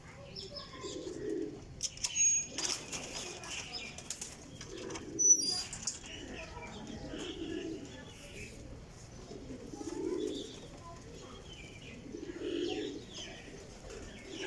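High-flyer pigeons coo softly in a loft, with repeated low rolling calls at a steady rhythm, brief wing flaps and faint chirps mixed in.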